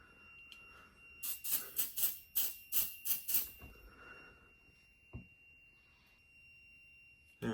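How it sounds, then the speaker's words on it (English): A bedroom smoke detector in a home fire alarm system is tested, giving a burst of about eight loud, rapid, piercing beeps in quick succession, then quiet with a faint steady tone. "Okay, I'll do primary bedroom smoke detector here."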